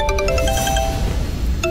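A mobile phone rings with an incoming call, its bright electronic melody of repeated chiming tones playing loud and close, then pausing briefly before starting again.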